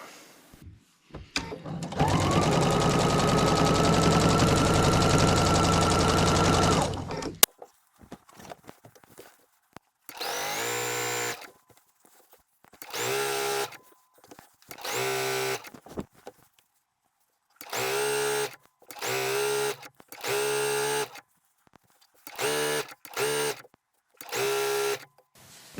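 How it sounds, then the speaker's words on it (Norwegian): A sewing machine stitches two fabric edges together. One long continuous run of several seconds is followed by many short rapid bursts separated by pauses. The sound is close and clear, with no talking. "Nå syr jeg altså kant i kant, fremdeles med mitt faste sømmål, helt til jeg kommer ned til hjørnet."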